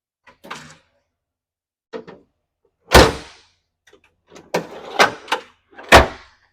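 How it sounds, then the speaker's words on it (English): A locking-slide bottom drawer in a fire chief's Tahoe is worked, with a series of sharp clacks, thuds and sliding rattles spaced irregularly, the loudest latch bangs near the end, close up and without talk. "Bottom drawer locking slides. It's going to pull out."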